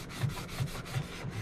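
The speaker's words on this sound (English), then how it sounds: "sand this surface a little bit to give it a little bit of tooth for the new adhesive to" A sanding sponge scuffs the surface of replacement side view mirror glass for a 1998 Jeep Cherokee, giving quiet, rhythmic back-and-forth rubbing strokes, about three per second, close up with no talking.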